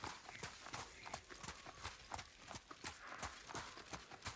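Horse hooves clip-clop steadily in Ghost of Tsushima, a quick rhythmic run of close, sharp hoof strikes that continues throughout over faint ambient game sound.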